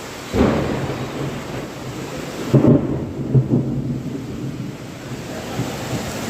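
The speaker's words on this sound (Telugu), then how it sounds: "అసలు ఏపీలో అసలు గాలి తుఫాన్లు ఎలాగొస్తాయంటే అలాగొస్తాయి" A thunderstorm with wind and rain in Andhra Pradesh: several deep rolls of thunder, one near the start and a cluster a couple of seconds later, rumble over a steady wash of rain and gusting wind, with no voices.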